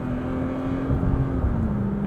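A 2020 Toyota Tacoma TRD Off-Road with a TRD exhaust drones steadily from inside the cab while driving, a low constant hum with slight engine swells and no talk.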